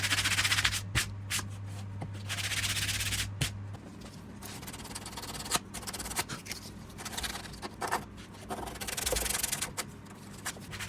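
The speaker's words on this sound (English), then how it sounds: "give it all a bit of a rub down with some P120 abrasive" Wood is rubbed down by hand with P120 abrasive paper, irregular scratchy strokes at close range with short pauses and a low steady hum underneath, no talk.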